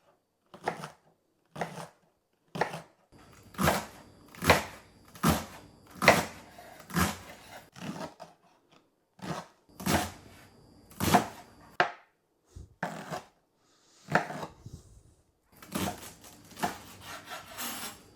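Knife chopping through leeks on a cutting board, a run of crisp, close strokes in bursts with short pauses between, no talking.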